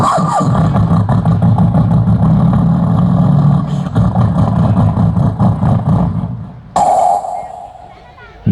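A voice imitates a tractor engine starting on a comedy mimicry stage, a loud, steady, chugging rumble that runs for several seconds, breaks off, then shifts to a higher droning tone before fading.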